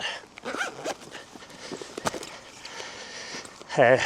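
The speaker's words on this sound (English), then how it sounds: "Then we zip away the catches." A zipper is pulled closed over the catches on an Ortlieb Vario bike pannier in a short, near rasp, with speech around it and some rustling handling of the bag.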